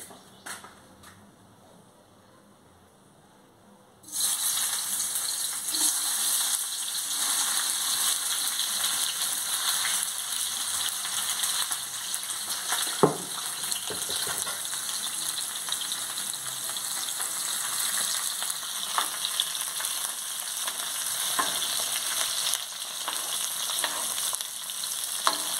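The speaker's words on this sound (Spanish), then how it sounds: "Ahora voy a echar los chiles. Porque el aceite ya está caliente." Chiles drop into hot oil for a shrimp alambre, and after a few seconds of near silence a bright, steady sizzle bursts in and keeps crackling evenly, with occasional faint clicks of utensils.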